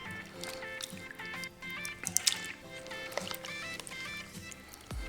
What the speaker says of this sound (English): Add our shrimp to it.